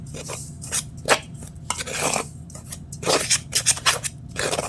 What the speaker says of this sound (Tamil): ஸோ இதையும் அப்படியே மிக்ஸ் பண்ணிக்கிறேன்